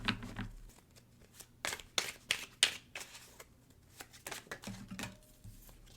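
Oracle cards riffle and slap together in quiet, scattered bursts of crisp paper shuffling, with short pauses between handfuls.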